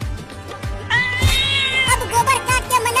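A cartoon cat meows repeatedly with a drawn-out, harmonic wail over a steady background music bed, loud and close, in a comedic animated birthday scene where the cat runs off with a cake.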